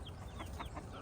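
Chickens on a small farm with about thirty adult hens and fifteen young chicks, soft clucks and faint chirps coming in short repeated bursts over a steady low background rumble.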